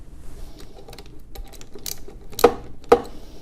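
Banjo bolts on an air-over-oil manifold are tightened with a 9/16 wrench: small metallic ticks and clicks scattered over a quiet background, then two sharper, louder clanks close together near the end.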